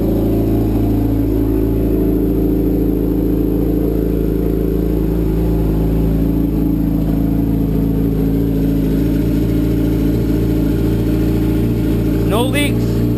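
A car engine idles steadily after an oil sensor adapter has been fitted, producing a continuous low hum with tonal bands that runs unchanged throughout, close to the listener, with a brief sweep near the end.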